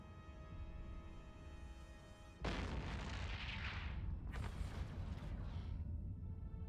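Ship weapons firing in the space game EVE Online: a sudden loud boom lands partway through, then sustained rumbling blasts and crackling bursts roll on over a steady humming game background, with no voices.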